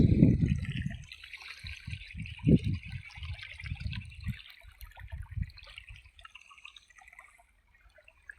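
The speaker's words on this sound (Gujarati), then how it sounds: "પાણી ચાલુ થઈ ગયું છે" Water runs and splashes into a village farm field, with a gurgling, dripping flow loudest at first and then fading to a softer trickle.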